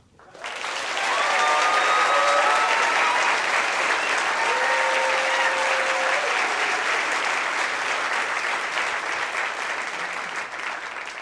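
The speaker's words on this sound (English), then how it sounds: "Very good clapping." Steady applause from a concert audience welcoming singer Billie Marten to the eTown stage, rising quickly and holding loud and even for the full stretch, with a few whoops over the top.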